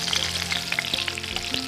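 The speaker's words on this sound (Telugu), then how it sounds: "ఒక సైడ్ ఫిష్ చక్కగా ఫ్రై అయింది." Fish sizzles in a frying pan with a continuous crackle, sputtering, and popping, close and fairly loud, with no voices.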